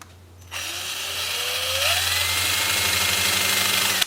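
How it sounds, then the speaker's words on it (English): A handheld power sander spins 2-inch sanding discs, around 120 to 150 grit, against a spalted sycamore bowl; a steady close whirring drone switches on after a brief quiet moment and holds until it cuts off at the end. "I'll move to my 2-inch sanding discs and sand this nice and flat"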